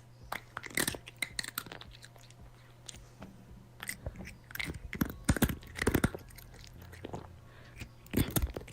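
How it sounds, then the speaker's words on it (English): A cat eating crunchy candy, making irregular sharp crunches and chewing bites up close, fairly quiet with short bursts spread through the clip. "This person noticed that their cat has a funny way of eating crunchy candy"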